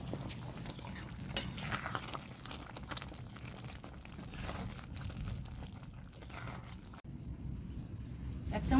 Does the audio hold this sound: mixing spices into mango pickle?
yes